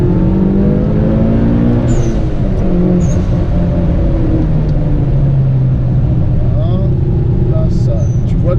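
A Mitsubishi Lancer Evolution drives slowly over an icy Nürburgring surface, its engine a steady low drone that runs throughout with tyre and road rumble. There is no speech, only brief squeaks at moments.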